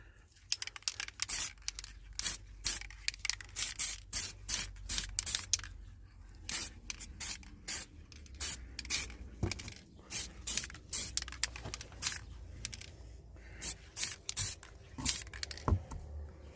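Paint sprays onto a Suzuki GSXR brake caliper in short, separate hissing bursts, close and fairly quiet, about a dozen spurts spread over the stretch with brief pauses between them.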